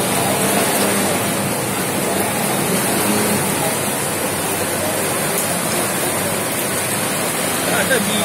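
Heavy rain pours down in Pattaya, a steady, dense hiss that stays loud and unbroken throughout, with no clear voices over it.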